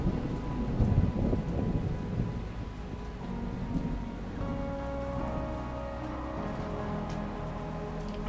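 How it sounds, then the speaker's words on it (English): Steady rain falls through a thunderstorm at Lost Dutchman State Park, a dense, continuous hiss with low rolling thunder rumbling in the first seconds, heard from a sheltered campsite. "It's been a stormy day"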